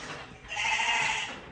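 A single ewe in a pen lets out a clear, mid-loud bleat lasting about a second, with quiet barn background before it.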